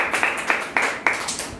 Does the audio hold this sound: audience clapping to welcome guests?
yes